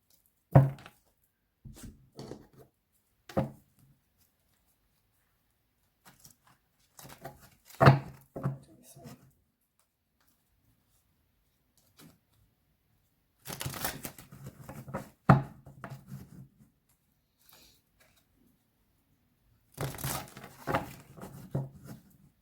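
Tarot cards shuffled by hand in short, papery riffling bursts separated by pauses, close and fairly quiet, with no talking.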